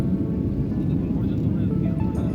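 Steady low engine roar inside an airplane cabin during a first flight in winter, constant and loud, with a voice speaking over it.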